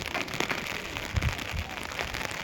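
Light rain falls steadily outdoors, a continuous soft patter with a few slightly heavier bursts of drops around the middle and no voices.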